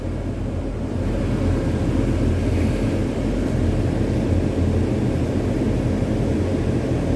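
Commercial HVAC centrifugal blower driven by a 30 horsepower motor, a steady, loud broadband roar with a deep low rumble that holds unchanged from start to finish, with no voices.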